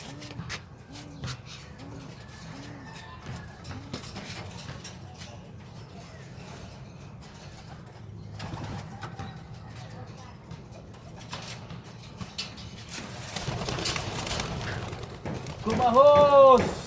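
Pigeons in a loft give soft, repeated low coos, mixed with light clatter and rustling, and the activity swells louder near the end.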